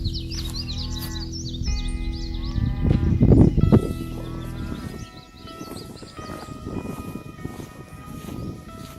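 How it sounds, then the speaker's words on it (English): Cattle mooing on a farm after a night of strong storm winds, several loud drawn-out moos overlapping near and far, with insect whine and scattered animal calls in the background. "cows are just not happy."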